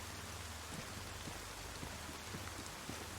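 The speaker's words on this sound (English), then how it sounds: "I'm just going to come in here out of the rain." Rain falling in the game DayZ, a faint, steady patter of drops with scattered soft ticks, continuous throughout with no talking.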